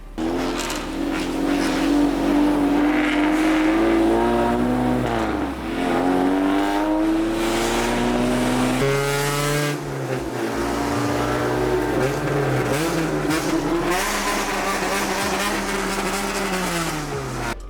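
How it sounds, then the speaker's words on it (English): Honda Civic B-series engines revving hard and echoing off surrounding walls, loud rasping wails rising and falling in pitch as several cars accelerate, sustained and close for the whole stretch. "The rasp of the B series whacking off the walls was unbelievable."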